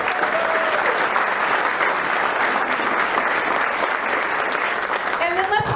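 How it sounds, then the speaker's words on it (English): Sustained applause from a large crowd fills the space, steady and dense throughout, with a voice faintly audible under the clapping. "Give them a round of applause."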